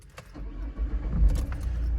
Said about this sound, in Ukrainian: Автомобіль заводиться і працює абсолютно без ніяких нарікань.